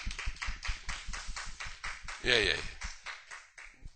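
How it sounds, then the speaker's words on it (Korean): A church congregation claps together during a sermon, steady rhythmic hand claps spread through the room, moderately loud, with a man's brief spoken word partway through. "박수 한번 칩시다."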